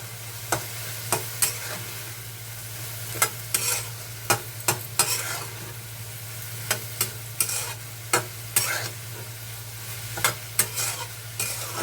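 Cluster beans sizzle steadily in oil with salt and chili powder in a pan, while a spoon scrapes and taps the pan at irregular intervals over a constant low hum.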